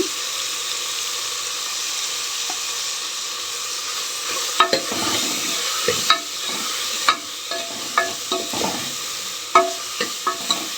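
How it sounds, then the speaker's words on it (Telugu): Spices with turmeric fried in a pan for radish dal sambar: a steady sizzle runs throughout, with scattered scraping stir clicks from a utensil growing more frequent in the second half, no talking. "ఇవన్నీ కొంచెం బాగా వేగనిద్దాం."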